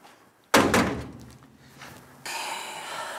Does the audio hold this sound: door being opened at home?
yes